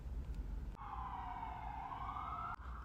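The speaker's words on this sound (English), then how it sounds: "I hope y'all heard that. I just seen 5, maybe 6 police cars." Police car siren wailing steadily in the distance, a single rising and falling tone heard faintly above low background rumble, with no talking.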